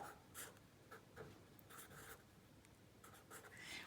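A pen or marker writes a math equation during a lesson, giving close, steady scratchy strokes in short bursts with brief pauses and no talk.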